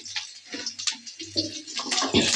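Chopped onion hitting hot oil with black cumin, a loud close sizzle and hiss that swells and fades in bursts with no talk.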